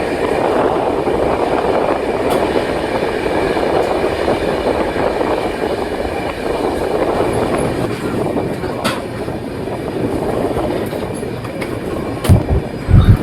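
The Radhikapur Express runs steadily on its rails with a loud continuous rumble and rattle, and a few sharp clanks and thumps near the end.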